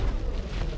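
Cannon fire in the video game ARK: Survival Evolved, a single heavy booming blast with a deep rumbling low end, loud and close and lasting under a second.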